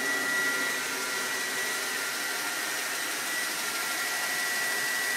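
1941 Monarch 10EE lathe running on a variable frequency drive at about 1250 RPM, a steady close whir with a high electrical whine and even broadband hum, no speech.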